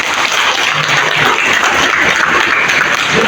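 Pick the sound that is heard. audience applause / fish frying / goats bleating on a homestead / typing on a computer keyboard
audience applause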